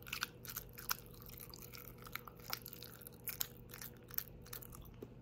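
Oatmeal chewed close to the mic, with soft crunching bites and wet mastication in an irregular rhythm, quiet and alone without talk.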